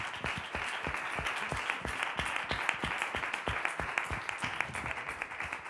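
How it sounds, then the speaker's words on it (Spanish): Audience applause for the speakers at a cultural history conference, fairly faint and distant, with distinct individual claps in a loose rhythm running throughout. "igual yo os voy a aplaudir otra vez"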